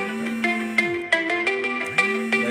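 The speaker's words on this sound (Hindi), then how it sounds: "फोन बज रहा है, इसको बंद करो भाई" A mobile phone rings during a news talk about a political rally in Haryana, giving a steady electronic ringtone with repeating melodic tones and sharp note onsets, loud and close, with no speech over it.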